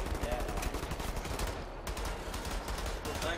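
Luger pistol gunfire in the shooter game Wolfenstein: The New Order, dense repeated shots and bursts filling the whole stretch with loud, steady game combat noise and no talking.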